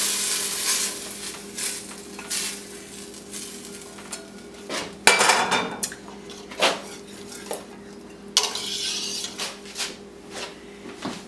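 A spoon scrapes and clanks against a pot while stirring a vegan creamy mushroom soup with nutritional yeast, irregular close metallic knocks and scraping over a low steady background hum.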